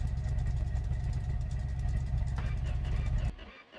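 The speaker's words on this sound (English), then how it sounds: "We're just gonna leave it idling" A Lada Niva's car engine idles with a steady low rumble for a few seconds, low on fuel, then cuts off abruptly near the end.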